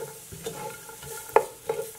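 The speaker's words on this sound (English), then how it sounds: "We're going to saute our, I think it's pronounced mirepoix." A mirepoix of chopped onions, celery and carrots sautes in oil for a sausage, potato and kale soup, with a soft steady sizzle broken by spoon-stirring clicks and scrapes, close and without talk.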